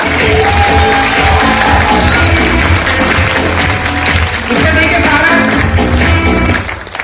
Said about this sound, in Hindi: तालियां कमाएंगे जरा